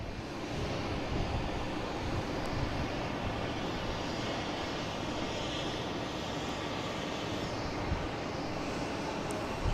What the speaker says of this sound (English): we have a JetBlue coming in from Fort Lauderdale,